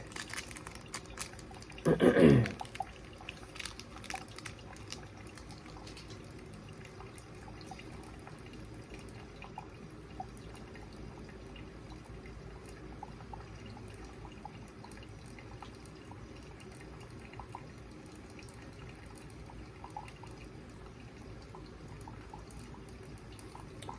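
Hot water pours briefly onto hazelnut-flavored instant coffee granules in a cup, a short splashy burst early on, followed by long quiet room tone with faint drips and small clicks.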